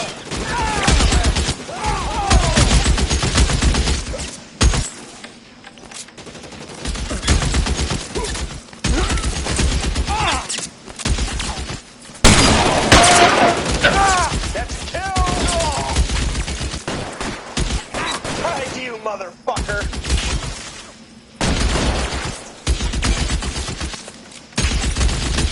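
A shootout in L.A. Noire brings bursts of loud gunfire in rapid volleys, broken by short pauses, with shouting voices mixed in among the shots.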